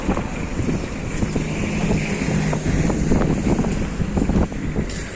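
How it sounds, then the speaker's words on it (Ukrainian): Wind rushes steadily across the microphone in a constant, close roar with low rumbling beneath it. "Вітер ще холодний, але теплий."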